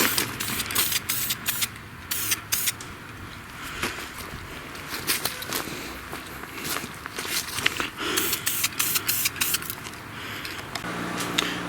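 An aerosol can sprays paint onto parts of a 1932 Delco 16-inch fan, giving short close hissing bursts in quick succession, with pauses and small handling clicks between them.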